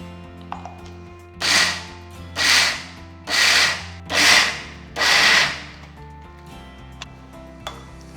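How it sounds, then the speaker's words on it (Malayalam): Lentils for parippu vada crushed in small batches, five firm grinding bursts about a second each in a steady rhythm, close and fairly loud, with quiet pauses between. "അപ്പോൾ ചെറിയ ചെറിയ ക്വാണ്ടിറ്റി നമുക്കൊന്ന് ക്രഷ് ചെയ്തെടുക്കാം."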